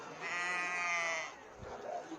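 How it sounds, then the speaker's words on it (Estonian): An Estonian dark-headed sheep gives one clear, fairly close bleat lasting about a second, followed by quieter faint sounds. "mis on siis ka Eesti põlistõud, Eesti tumedamine lammas."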